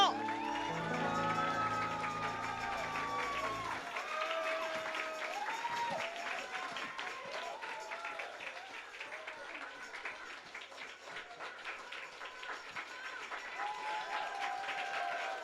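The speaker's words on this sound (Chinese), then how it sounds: "我们的掌声再热烈一点哦" Church congregation applause after a sign language performance: warm, sustained clapping with scattered cheers, loud at first and tapering slightly while a voice speaks briefly near the start.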